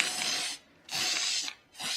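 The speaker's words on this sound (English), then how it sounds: "I'm just going to spray a coat right on the handle." Rust-Oleum Oil Rubbed Bronze spray paint hisses onto a handle in three loud, steady bursts separated by short pauses.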